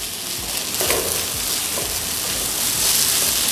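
Fried rice with ketchup sizzles steadily in a hot pan, a constant loud frying hiss broken by occasional soft stirring scrapes.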